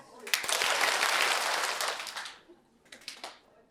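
Many people clap rapidly while throwing and catching an object, a dense flurry of overlapping claps lasting about two seconds, fading out, then a few scattered, sharper claps follow close by.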